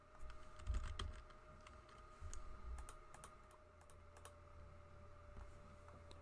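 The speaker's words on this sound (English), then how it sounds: "I'm going to head over to Google and I'm going to type in Google Ads." Quiet, uneven keystrokes on a computer keyboard while a search is typed into a browser, with soft clicks in scattered bursts over a low background hum.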